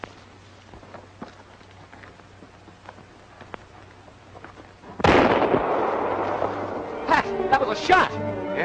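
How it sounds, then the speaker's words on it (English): A single sharp gunshot bursts out loudly from near silence, with its crack spreading across the band and then trailing into a few scattered pops and rustling noise. "Pat, that was a shot."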